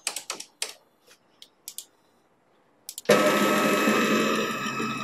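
A stepper motor drives a ball screw at a faster feed of around 2000 mm per minute, entering as a loud, steady mechanical whir after a few sharp clicks and continuing to the end.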